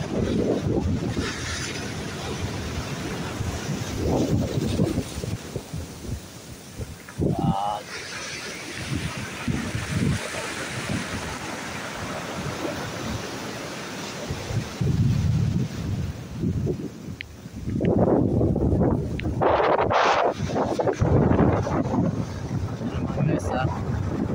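Strong wind buffets the microphone while sea waves surge and crash nearby on a Jeju Island shore, South Korea; voices speak intermittently over the rough, gusting noise.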